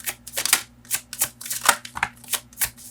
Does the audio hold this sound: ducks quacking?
no